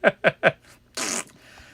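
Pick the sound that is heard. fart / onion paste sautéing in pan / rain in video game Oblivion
fart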